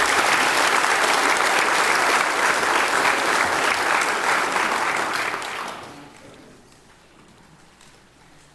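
Veterans at a Lions Club variety show receive a long, loud round of audience applause that stays dense for several seconds, then thins out and fades to a quiet room near the end.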